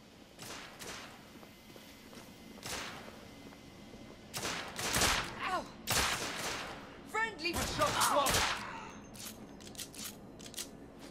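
Gunfire in The Order: 1886, a run of sharp shots and rapid bursts of varying loudness, some close and cracking, others fainter, heard over quiet game ambience with a voice talking.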